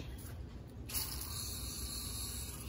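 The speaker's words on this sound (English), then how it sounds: "I'll go ahead and spray it one more time" Water is sprayed onto a large patch of concrete, a steady close hiss that starts partway in and keeps running at low volume.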